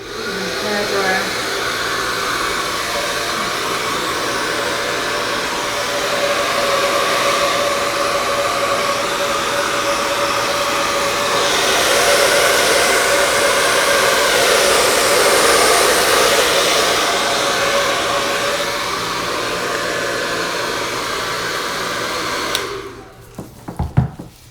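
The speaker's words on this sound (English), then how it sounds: "hairdryer." A hair dryer blows steadily on thin resin Dutch pour paint for a beachscape, a continuous loud whooshing roar that swells slightly midway and cuts off near the end with a few knocks.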